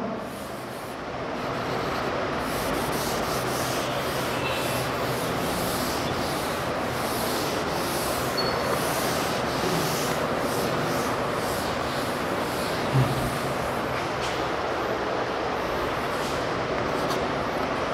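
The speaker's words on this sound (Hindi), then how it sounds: "मैं इसको रब कर देता हूँ।" A board being wiped clean in a math classroom, heard as a long, steady, close rubbing and scrubbing that runs evenly throughout with no talk.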